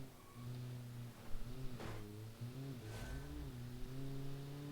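A rally car engine in a classic rally video game drones at moderate pitch, shifting up and down through the gears with a couple of brief bursts, fairly faint and steady, no voices.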